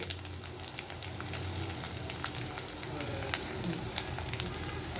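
Two sprigs of curry leaves sizzling in hot oil in a pan on low heat, a soft, steady crackle with small pops, faint and close, no talk.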